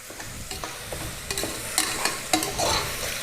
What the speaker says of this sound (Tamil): தக்காளி வதங்கிடுச்சு